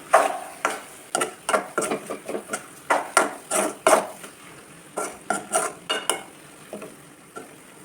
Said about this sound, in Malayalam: നാളികേരം ചേർത്തിട്ട് നന്നായി ഇളക്കി യോജിപ്പിക്കണം